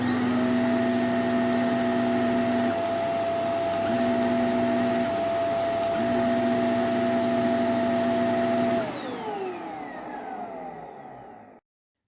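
A KENT vacuum cleaner with UV disinfection runs with a steady whining motor drone, close and continuous, then winds down and cuts off near the end.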